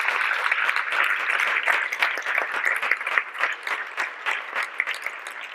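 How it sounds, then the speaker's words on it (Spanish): Collective applause from an audience at a public citizens' meeting of a health research institute, steady dense clapping sustained throughout at a moderately loud level, with no talk over it. "vamos a darles un aplauso colectivo también"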